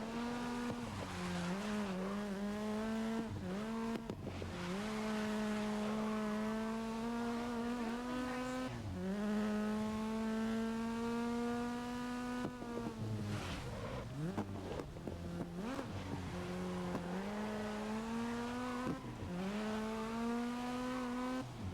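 Race car engine in the GRID racing game, a loud, steady high-revving drone that rises and falls with gear shifts and brief dips, running alone without any talk.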